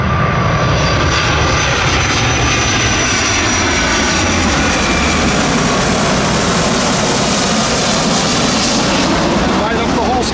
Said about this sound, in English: A fucking plane